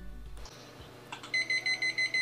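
After a quiet pause, an ifm signal lamp's electronic buzzer, set to 2% volume, beeps softly in a steady repeating pattern of short pulses, faint and alone.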